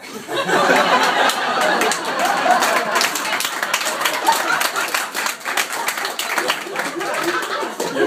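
An audience at a comedy show claps and chatters, scattered hand claps mixed with laughter and murmuring voices over several seconds, moderately loud and close.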